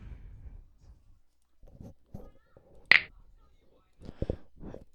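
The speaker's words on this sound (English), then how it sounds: "you're gonna want to choose a sound out of the library called finger snap" A single crisp finger snap from the Scratch sound library rings out sharply amid quiet, scattered soft clicks and faint low murmuring.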